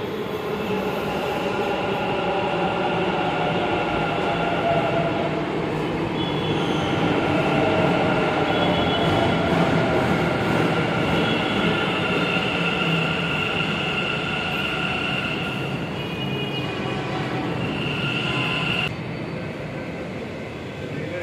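A Bangalore metro train at the underground Dr. Ambedkar Vidhana Soudha station platform gives a loud, steady rumble and rush that fills the whole stretch, easing slightly near the end.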